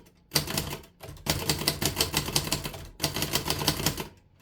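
A 1937 Remington Noiseless Model 1 typewriter types in three quick runs of close, crisp key strikes, each separated by a brief pause. No one speaks.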